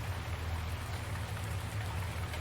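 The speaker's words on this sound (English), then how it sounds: "Oh, now it's raining!" Steady rain in the Farming Simulator 2019 game world, a continuous even hiss with a low rumbling bed underneath, heard alone without any talk.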